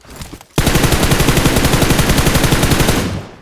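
Loud, close, rapid automatic gunfire in the video game PUBG, a continuous burst of about two and a half seconds following a short lead-in.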